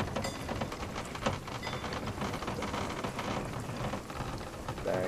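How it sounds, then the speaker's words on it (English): Steady, dense rain hisses throughout a storm at sea in the pirate game Sea of Thieves, loud and continuous with a low rumble beneath. "Oh, it's raining."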